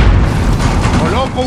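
A grenade explodes in Call of Duty: Modern Warfare multiplayer, a loud deep boom with rumbling blast debris filling the whole moment amid game voice chatter.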